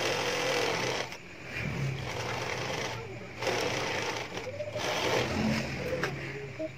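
An overlock sewing machine stitches fabric in bursts, a fast buzzing hum that stops and restarts several times during a garment-sewing job, heard close and fairly quiet.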